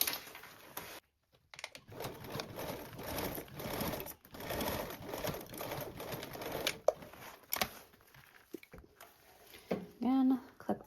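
Home sewing machine stitching a 3/8-inch seam on a Pandora Charisma project, a steady fast mechanical whir running several seconds with brief pauses, close and moderately loud, with a short voice near the end.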